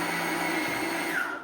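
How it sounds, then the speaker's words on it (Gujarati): An electric mixer grinder runs in a steady, loud motor whine that holds close and continuous, with the pitch sliding slightly near the end. "બેન મિક્સર ચાલુ કરું છું હો"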